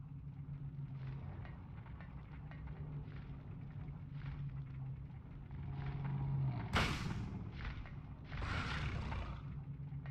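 Gunfire in Silent Hill hits a monster with a few heavy, booming shots over low rumbling game ambience. One sharp blast lands near the middle and another burst comes later, with no talking.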